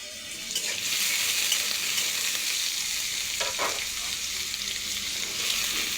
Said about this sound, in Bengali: কেটে রাখা আলুগুলো দিয়ে দিচ্ছি, দিয়ে নাড়িয়ে চাড়িয়ে নিলাম ভালো করে।